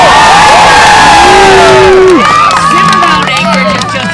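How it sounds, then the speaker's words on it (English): A crowd cheers and shouts loudly at a state fair throwing contest in Alaska, with whoops and raised voices rising and overlapping throughout, children's shouts mixed in. "Who's cheering for Anchorage?"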